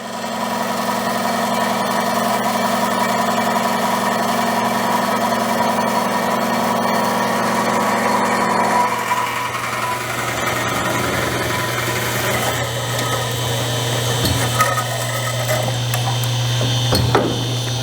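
A semi-automatic double miter bandsaw, an RMT S-FAB PDM 10-14, runs with a steady motor hum and a strong low drone, then shifts pitch midway as the head repositions, with a few faint clunks and no speech.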